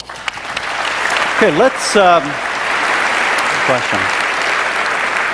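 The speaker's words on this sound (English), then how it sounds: "We like the applauding, so please continue that throughout the debate." Audience applauding at a Christopher Hitchens vs. Tony Blair debate: a dense, steady wash of clapping from a large crowd that carries on throughout, with a voice briefly speaking over it.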